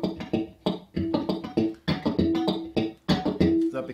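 Electric guitar fingerpicked with the right-hand thumb, with no amplifier, giving a steady run of short percussive thumped notes, close and dry, played alone with a few held tones.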